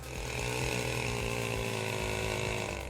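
A chainsaw running steadily and loudly at close range, its engine drone continuous for the whole stretch, with no voices. It belongs to a forestry worker who traded the saw for football.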